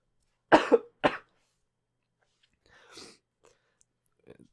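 A couple of sharp, close coughs in quick succession, followed by quiet throat noises and a faint breath.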